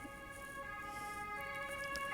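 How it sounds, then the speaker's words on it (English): An emergency vehicle siren wails steadily in the distance, a sustained tonal whine holding through the whole stretch with no talk over it. "Another siren."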